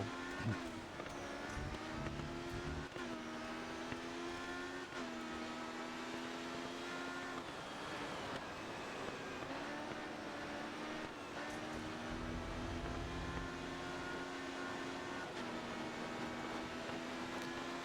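Race car engine in GRID Autosport on Switch, a steady droning motor tone with shifting pitch running continuously through the lap, with the ABS clicking constantly underneath.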